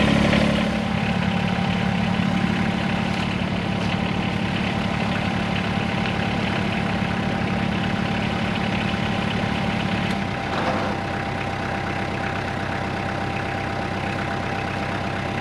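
A Kubota tractor engine idles smoothly and steadily at close range, a low rumbling hum that shifts slightly partway through, with no talking.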